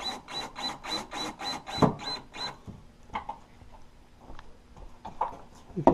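A pocket-hole screw is driven into wood for a puzzle cabinet, heard as a fast, even run of buzzing pulses that stops after a couple of seconds. Scattered clicks and light handling knocks follow.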